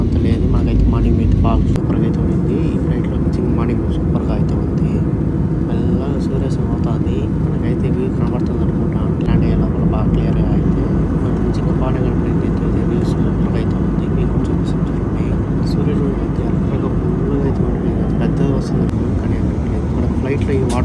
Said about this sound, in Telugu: ఇంజిన్ స్టార్ట్ చేసి మనం పైకి అయితే ఎగరేస్తారు